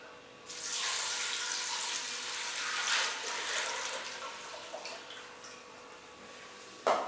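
Water pours into a pot for fish stock with a steady hissing splash that builds and then gently tapers, fairly faint, ending with a small knock.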